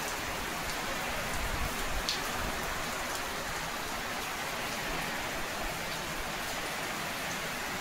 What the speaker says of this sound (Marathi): आता बघ कसा पाऊस आलाय.